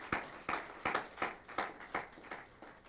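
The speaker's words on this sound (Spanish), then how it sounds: "Quiero darle un aplauso a Jesús" A church congregation claps for Jesus: about eight evenly spaced, fairly quiet claps in a steady rhythm, with no voices over them.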